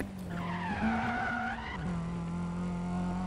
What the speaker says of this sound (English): Alright, let's drift.